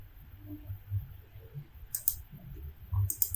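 A couple of sharp mouse clicks while selecting a beam in structural analysis software, two brief isolated taps over a quiet low room hum, close and alone.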